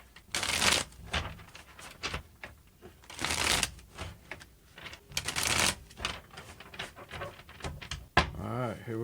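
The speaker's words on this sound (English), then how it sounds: "3 more shuffles and let's begin." A deck of tarot cards being shuffled by hand in repeated riffling bursts, close and crisp, with brief pauses between shuffles.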